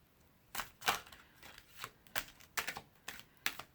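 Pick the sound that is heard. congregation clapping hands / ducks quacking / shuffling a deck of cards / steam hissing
shuffling a deck of cards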